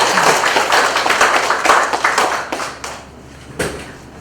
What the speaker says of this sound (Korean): 좀 박수 주시기 바랍니다